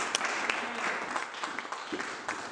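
Congregation at a French-language church service applauding, a sustained burst of clapping from many hands, fairly close and even throughout with a few sharper claps standing out.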